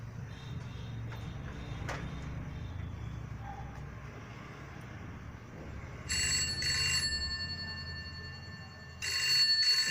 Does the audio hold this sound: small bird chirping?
no